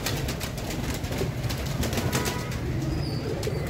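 Pigeons' wings flutter in rapid, continuous flapping bursts close by, over a steady outdoor background hum.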